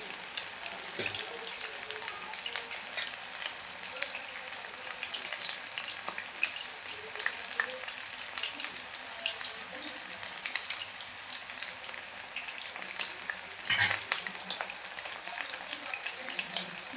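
Chicken pieces fry in hot oil in a pan for a spicy chicken fry, giving a steady, close sizzling hiss with scattered crackles and a brief louder spatter near the end; no one speaks.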